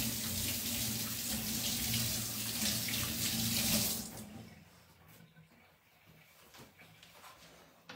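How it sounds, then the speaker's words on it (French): Hands being washed under a running kitchen tap while baking gluten-free crumbles, a steady broadband gush of water for about four seconds that then cuts off, leaving faint sink sounds and quiet handling. "Je vais me laver les mains."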